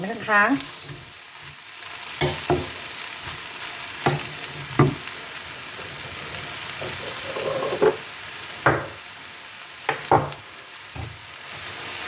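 Vegetables are stir-fried in a pan for pad see ew with rice vermicelli and pork, giving a steady sizzle broken by repeated scraping and clanking stirs up close, with no talk.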